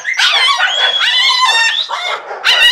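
French bulldogs arriving at a kennel let out a run of high, tonal barks, yips and whines, close and loud. The calls come in rapid overlapping bursts with a short gap before a final yelp.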